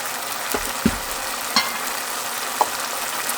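Taro root with dried chili paste, onion paste and whole cumin seeds fries in a pan, a loud, steady close sizzle broken by a few sharp stirring clicks.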